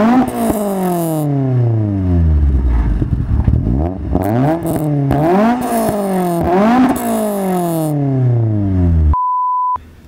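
A car with an SR20DE engine on individual throttle bodies revs repeatedly and loudly close by, rising and falling in sharp sweeps, with an induction rasp, before cutting off and leaving a steady electronic beep at the end.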